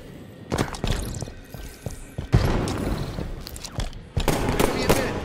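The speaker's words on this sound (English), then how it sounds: "Tossing a nade" A grenade blast in Halo 5: Guardians, a sharp loud boom amid rapid gunfire bursts and crackling impacts, close, with a voice talking underneath.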